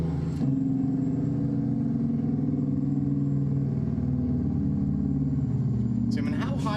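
Kenworth W900 truck engine in American Truck Simulator droning at a steady, loud low rumble for several seconds, with a brief burst of other noise near the end.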